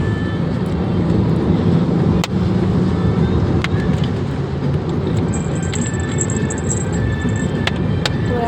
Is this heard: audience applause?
no